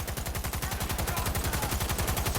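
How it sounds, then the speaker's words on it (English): Sustained light machine gun fire in Cyberpunk 2077, a fast, steady rattle of evenly spaced shots that runs loud and unbroken from start to finish. "this light machine gun's working wonders at least"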